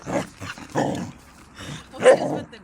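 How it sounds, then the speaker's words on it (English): A puppy gives several short bursts of growling and barking, close and moderately loud, separated by brief pauses. "What is with the growling?"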